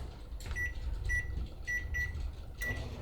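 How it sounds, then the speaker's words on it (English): A microwave oven hums steadily, with a quiet low drone and a few short high beeps or tones recurring throughout. "we're gonna put these back in the microwave for about 3 more minutes"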